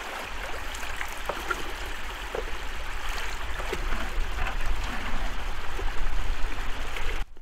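Water flows and washes steadily along an icy beach among floating ice sheets, a continuous close rushing and trickling sound that swells slightly toward the end.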